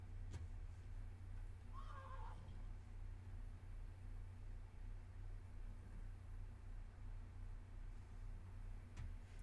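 A horse in an online multiplayer game gives a single short whinny early on, faint and mid-distance over a steady low background hum, with no talking.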